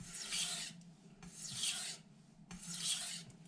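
Knife edge stropped on a Miyagoshi whetstone with light pressure: three slow, even raspy strokes, each lasting under a second with short pauses between, close and fairly quiet, with no voices.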